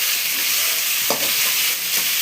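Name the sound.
tomato added to a pan, sizzling and stirred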